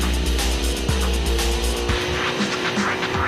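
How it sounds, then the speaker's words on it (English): A motorized monocycle revving hard as it races around a track, a loud buzzing engine with rising and falling pitch and a sudden shift partway through, continuous and close throughout. "Kerry starts his engine and hits the track."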